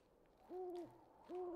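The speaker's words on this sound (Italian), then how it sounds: "No, questo è un gufo, non è un lupo." An owl hoots twice in the Psych video game, two clear, steady-pitched calls with a pause between them, fairly close over a quiet background.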